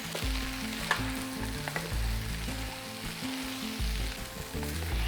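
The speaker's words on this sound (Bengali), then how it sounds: "এরপর দিয়ে দেব ডালের মিশ্রণ। এরপরে পুরো জিনিসটাকে একটু হালকা নাড়াচাড়া করে নিচ্ছি।" A moong dal mixture sizzles in a hot pan and is gently stirred, a steady, soft frying hiss with occasional scrapes and no talking.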